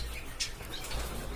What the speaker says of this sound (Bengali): এখানে অস্ট্রেলিয়ান ঘুঘু আছে